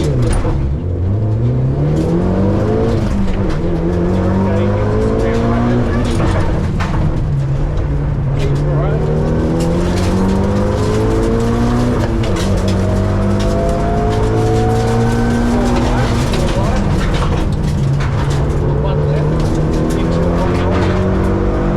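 A Mitsubishi Evo 8 tarmac rally car races at full throttle, its engine screaming loud and close through repeated rising revs and gear changes, with tyre noise and occasional voices underneath.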